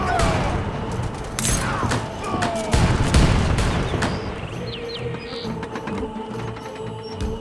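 Cannon fire from Age of Empires 3 pounds through a fort wall amid a dense battle din: booms and clattering impacts pile up, heaviest around the third second, with mechanical rattling throughout.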